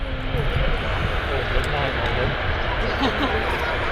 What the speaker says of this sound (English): Yeah, Jet 2.com livery, 737. Gonna see that pretty much now, any second now.